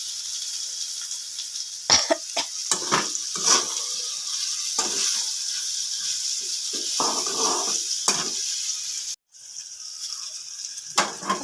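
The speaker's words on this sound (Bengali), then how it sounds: "দেখো লাল লাল করে ভেজে নিব" Leafy greens fry in a pan on a gas flame, with a steady soft sizzle underneath and repeated scraping, stirring strokes breaking in at irregular intervals, close up and moderately loud.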